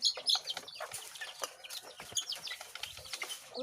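Pet chickens being given leftover food cluck close by in a short series of sharp, irregular clucks and calls, fairly clear against a quiet background.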